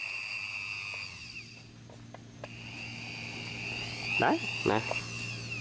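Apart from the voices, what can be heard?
electric drill running on HATAYA extension cord reel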